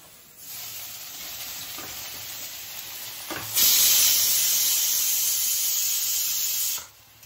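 Grated carrot halwa sizzles and hisses as it is stirred into hot ghee, a steady frying hiss that swells louder halfway through and then cuts off abruptly, close and alone without talk.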